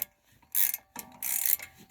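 A 7 mm Allen key works on the brake caliper bolts of a Skoda Octavia or VW Golf: two short metallic ratcheting, grinding bursts, close and fairly loud, separated by a brief quiet gap.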